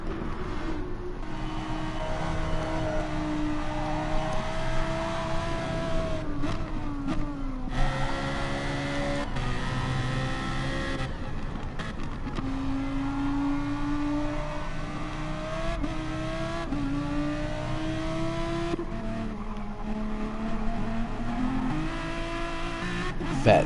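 A race car leaving the pits in the racing game Gran Turismo Sport: a steady loud engine drone that rises and falls through gear changes, continuous with no talk.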